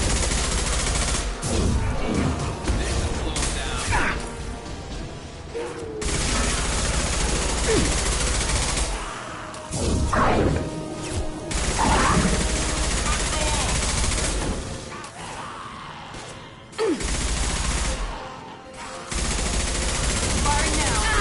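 Sustained rapid gunfire from Mass Effect 2 combat, loud and dense with bursts across most of the span and brief lulls, mixed with game voices calling out.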